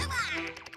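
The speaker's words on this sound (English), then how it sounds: "Are there ducks in the water?" A single short duck quack from Mario + Rabbids Kingdom Battle, bright and nasal, sliding downward and trailing off into a few faint fluttery pulses, heard alone and fairly quiet.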